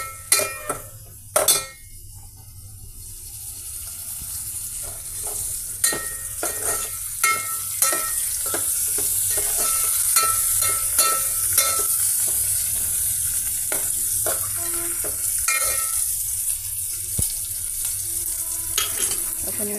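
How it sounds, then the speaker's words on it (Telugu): Onions, curry leaves, green chillies and seasoning seeds fry in hot oil in a pan, a steady sizzle running throughout, broken by the scrape and clink of a spoon stirring against the vessel. No one speaks. "ఒక నిమిషం పాటు ఆయిల్లో ఈ onion pieces, curry leaves, green chilli pieces, పోపు మసాలా సీడ్స్ అన్నీ ఈ విధంగా ఫ్రై చేద్దామండి."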